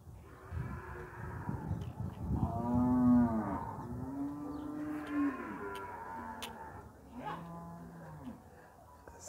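Cattle herd at a livestock fair in Campina Grande, Paraíba, lowing loudly and repeatedly in overlapping moos over a steady murmur of the crowd.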